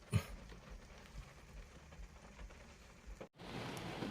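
Steady rain hisses on a surface during a fishing trip, a soft continuous patter with a brief dropout before it resumes slightly louder.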